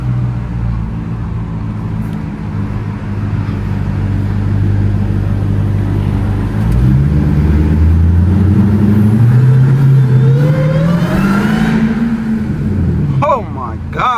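A 707 hp Jeep Trackhawk accelerates through traffic in Miami, its supercharged engine rumbling loud and close, then rising into a climbing, whining tone that peaks near the end; someone talks over it.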